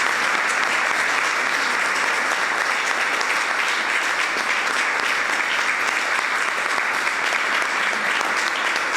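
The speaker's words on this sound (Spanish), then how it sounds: "Demos un aplauso al Señor todos juntos." A church congregation applauds together during a worship service, a dense, loud, steady roar of many hands clapping without a break for the whole stretch.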